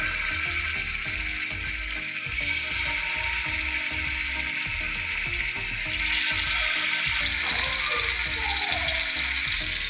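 Beef Bihari tikka boti shallow-frying in oil in a grill pan over a medium-low flame, a steady crackling sizzle with faint clicks and clatter throughout.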